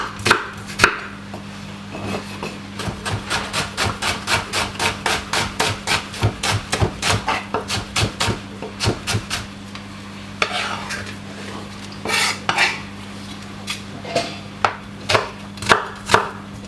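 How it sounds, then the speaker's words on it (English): White onion being chopped with a knife on a board, a fast run of sharp, evenly spaced cuts that pauses, then resumes as slower separate chops, close and loud over a faint steady hum. "I'm going to be cutting up some white onion to put on it."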